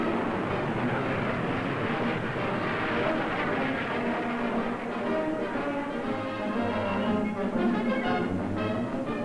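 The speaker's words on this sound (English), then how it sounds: "This includes a flyover of base aircraft." Aircraft from an Air Force base fly over a graduation parade, a continuous loud engine roar that swells and slowly fades.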